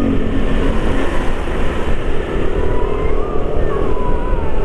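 A Yamaha NMAX scooter ridden at night on a busy street during the Eid eve takbiran, its steady engine drone and road rumble loud and continuous throughout, with no voices over it.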